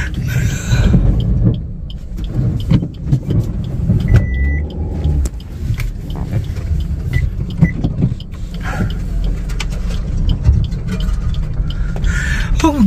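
A car being turned around on a road at night while returning from a wedding, with a steady low engine and rumbling tyre noise close by, plus faint clicks and rattles throughout.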